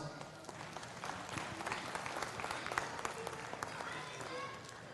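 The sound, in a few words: audience applause at cattle show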